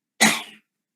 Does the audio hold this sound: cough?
yes